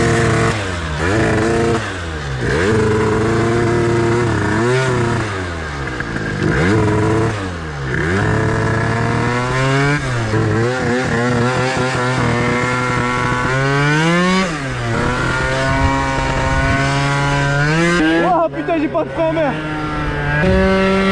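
A Piaggio Zip scooter's two-stroke engine with a 70cc Athena Racing air-cooled kit sputters to life and revs repeatedly, pitch rising and falling loudly and close, with no voices over it.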